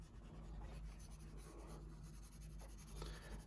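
A Blackwing pencil scratches across paper in close, continuous strokes, a soft dry graphite rasp alone in a quiet room.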